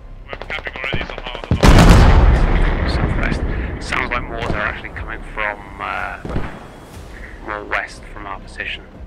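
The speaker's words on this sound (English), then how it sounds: "Sounds like mortar actually coming from." Mortar fire in the military shooter video game Squad, a heavy close blast followed by a long rumbling decay, with scattered gunshots and several people talking over the sound.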